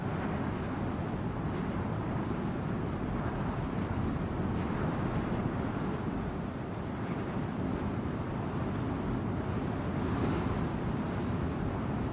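Water waves in Star Citizen wash in a steady, broad surf rush mixed with wind, running continuously with no talk.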